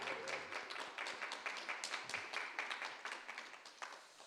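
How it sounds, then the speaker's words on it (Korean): A church congregation claps in steady welcoming applause during a Sunday service, dense and even for several seconds before tapering slightly. "환영의 박수 함께 하도록 하겠습니다"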